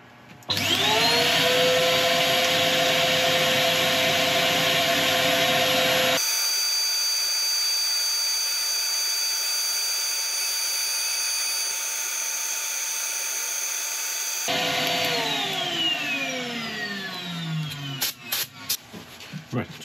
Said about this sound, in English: I'll let you watch the start of the sanding